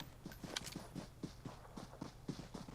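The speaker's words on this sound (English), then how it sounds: "I can hear the footsteps pushing" Rapid, evenly spaced footsteps of enemies pushing in PUBG Mobile, a steady quick patter of close, crisp steps with no voices over them.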